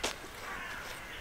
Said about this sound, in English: hear the sound of the birds